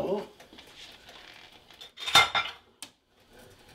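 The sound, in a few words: stirring turkey congee in a pot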